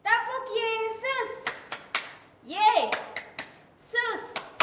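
Congregation at an online church service clapping in rhythm, sharp separate claps and taps in short patterns, alternating with a leader and children chanting between the beats.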